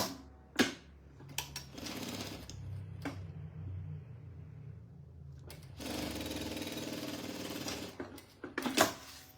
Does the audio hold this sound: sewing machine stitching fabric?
yes